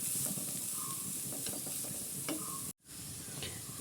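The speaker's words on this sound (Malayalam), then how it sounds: "അത് ഇളക്കി നല്ലതായിട്ടൊന്ന്" Spice paste frying in a pan over popped mustard seeds and a sprig of curry leaves, for a drumstick flower thoran, stirred with steady scraping and a continuous close sizzle, cut off by a brief silent gap before resuming.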